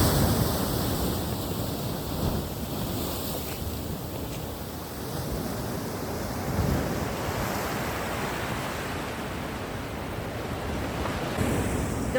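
Ocean waves at Port Noarlunga beach in South Australia wash in as a steady, loud broadband roar of surf, mixed with wind buffeting the microphone and no speech.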